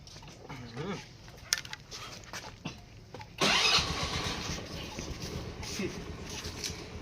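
A Honda Activa scooter engine cranks and catches at a key start, rising suddenly to a loud close idle after some quieter handling noises, with voices heard earlier.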